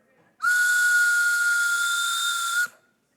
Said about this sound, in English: We tried to get a real train whistle here, but didn't quite get that.